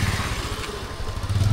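Motorcycles idle at a roadside shelter in Patuakhali while waiting out the rain, giving a close, steady low engine rumble with a brief clatter amid a wash of background noise.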